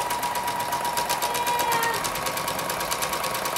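A sewing machine free-motion quilts an autumn table topper about a quarter inch from the edge. It runs alone with a steady, fast, even stitching rhythm throughout, close and clear.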